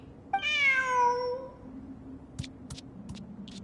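A single drawn-out cat meow rises and then trails away over about a second, clear and close. A few faint, short clicks or taps follow in an otherwise quiet space.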